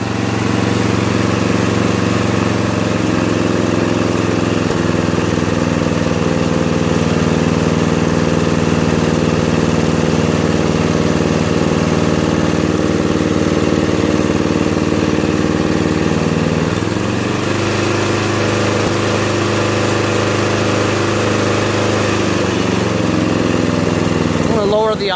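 A Murray Black Beauty lawn mower engine idles steadily and loudly after burning oil off its muffler, a continuous mid-pitched drone that shifts slightly in tone partway through.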